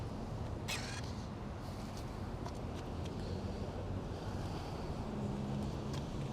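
Steady outdoor wind rushes over the microphone at a Tesla Supercharger while a Mustang Mach-E is plugged in, a continuous broad roar with a few faint brief clicks and scrapes.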